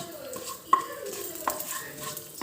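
Fenugreek seeds drop into hot oil in a pan while making mango pickle, giving a soft steady sizzle with a couple of sharp spoon clinks against the pan.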